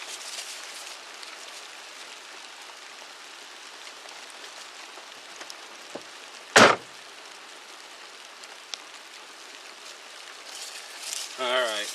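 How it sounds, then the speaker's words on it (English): Rain falling on and around a parked car, a soft steady hiss of drops throughout, broken by a sharp loud knock near the middle and a few faint clicks and rustles toward the end. "the rain is coming in from the west"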